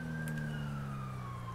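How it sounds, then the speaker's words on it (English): A steady, slowly falling police siren wail in the video game GTA V mixes with a low engine drone, sounding continuous and fairly close. "Oh no, that's a siren."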